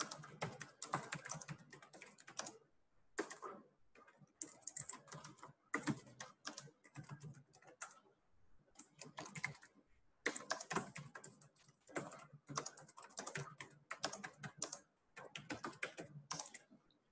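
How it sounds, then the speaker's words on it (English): Rapid bursts of typing on a computer keyboard, a message being keyed in with clustered clicks separated by brief pauses, close and fairly faint, with no talking. "I'll just quickly type in a message for people who are finding it hard to hear my voice."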